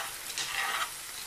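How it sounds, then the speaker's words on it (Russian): Chopped onions sizzle in a frying pan on a stovetop, a steady, close hiss of frying that continues evenly throughout with no voices. "Зажарим лук на плите до легкого-легкого подрумянивания."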